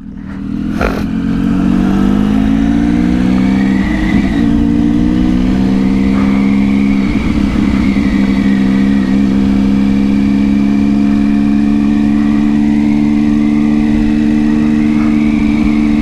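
A Honda CG Tiger motorcycle engine idles steadily up close with a loud, continuous mid-low hum, swelling slightly in a few brief revs, with no talking over it.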